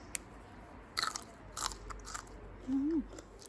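Crunchy sweet beans freshly picked outdoors are bitten and chewed in a few sharp crisp crunches, close to the mouth, with a brief vocal hum near the end and no speech.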